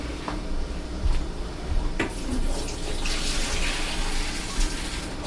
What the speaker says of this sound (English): Now we're gonna discard the water from the rice.